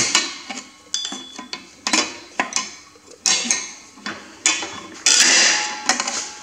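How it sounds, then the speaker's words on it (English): Metal clicks and clanks as a small screwdriver pries brake springs loose on a Massey Ferguson MF135 six-speed tractor during restoration, a close series of sharp taps and scrapes with short pauses between them. "Now we'll just bring our little screwdriver in the back here."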